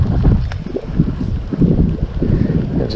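Gusting wind batters the microphone at a private pond, a loud, continuous low rumble with choppy surges and no voices.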